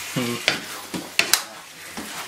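Vegetables stirred in a hot pan on a stovetop, soft scraping and clattering strokes with a light sizzle underneath, a few distinct utensil knocks close by.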